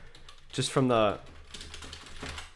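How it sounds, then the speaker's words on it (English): Typing on an Uhuru keyboard from an everyday keyboard-and-mouse combo, a few soft key clicks close by while a person speaks briefly over them. "the keyboard sounds nice, like a real keyboard, and it sounds quality"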